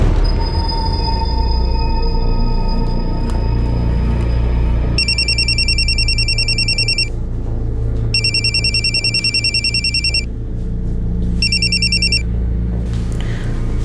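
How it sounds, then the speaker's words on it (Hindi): A telephone rings in bursts of a bright electronic trill, three separate rings spaced a second or two apart over a humming room background, loud and close. "नरेश सर का फ़ोन आया था।"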